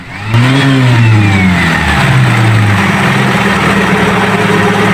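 A Kia Pride EFI engine with a misfire, backfire and smoky exhaust rises into a loud rev and then holds a steady, rough mid-pitched drone close by.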